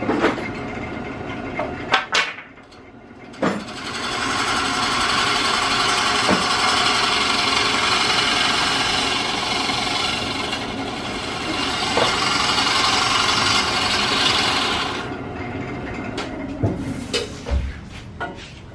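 A woodturning lathe spins a California fir bowl blank while a gouge cuts a dovetail tenon, a steady loud whirring scrape holding for about twelve seconds, framed by brief knocks and tool contact at the start and end.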